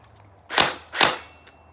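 An airsoft gun fires two sharp, loud bursty shots about half a second apart, close by with no voices.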